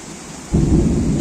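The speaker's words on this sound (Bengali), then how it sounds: "এই যে মেঘের গর্জন শুনছেন" Thunder during heavy rain in Dhaka arrives as a sudden deep rumbling roll about halfway through, loud and sustained over a steady hiss of falling rain, with no talk.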